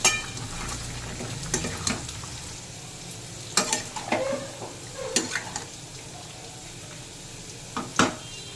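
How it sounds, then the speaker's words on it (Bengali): Chicken kasha being stirred in a pan after the lid comes off, with a spoon scraping and clinking in several short bursts over a low, steady sizzle. "ঢাকা খুলে একটু চিকেনটা নেড়ে দেব যাতে নিচে না লেগে যায়।"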